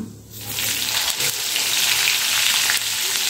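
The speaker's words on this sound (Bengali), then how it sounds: "ফোড়নটা এখন এই তেলের সঙ্গে একটু ভেজে নিতে হবে" Whole panch phoron spices fry in hot oil for a sour, spicy-sweet raw mango pickle, giving a loud, continuous, close-up sizzle that swells in after a brief quieter start.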